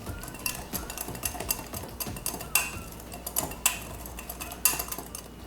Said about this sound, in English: add about half of the dry ingredients and continue whisking